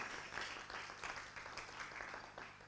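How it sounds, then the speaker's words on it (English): Audience applause at a World AIDS Day 2022 event, a faint, steady patter of many hands clapping at a distance, continuing throughout without voices. "I think that applause should particularly go to James"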